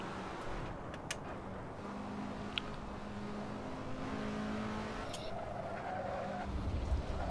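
A race car in a sim racing game skids under hard braking at a Goodwood track, a steady tire scrub with engine drone running underneath, moderately loud and continuous, ending in a brief heavier rumble.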